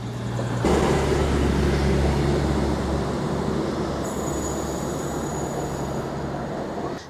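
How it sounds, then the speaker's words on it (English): A train rolls into Hebden Bridge station with a steady, heavy rumble and rattling wheels, loud and close, joined partway through by a thin high whine. "There's a train coming in."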